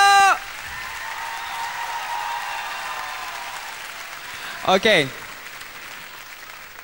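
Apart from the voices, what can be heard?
audience applause for Datuk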